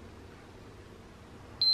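A feeding tube pump gives a single short, high electronic beep as it is switched on, sounding near and clear over a quiet room hum.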